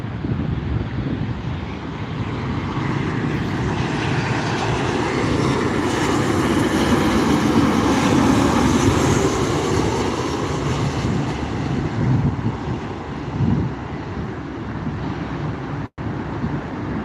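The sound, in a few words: Southwest Airlines airplane in Canyon Blue livery at night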